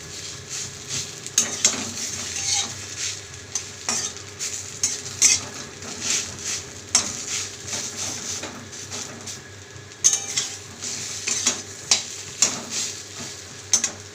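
Taro leaves (kochu shak) frying in a pan with fish head, a soft continuous sizzle broken by repeated scraping and clinking of a spatula or spoon stirring against the metal pan.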